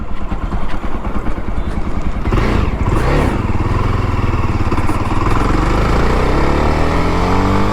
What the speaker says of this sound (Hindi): ये झटके मारेगी अब थोड़ी देर में